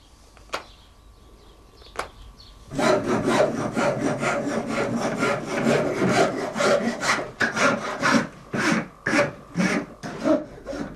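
After two isolated knocks, a rasp and sandpaper scrape a hand-carved wooden fork in steady, close, rhythmic back-and-forth strokes that grow more distinct toward the end.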